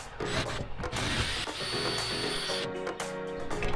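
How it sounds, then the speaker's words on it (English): A power drill bores into a surface to mount a solar street light bracket, whirring in uneven bursts with clicks and handling knocks between, close and fairly loud. "All right, I'm going to start drilling"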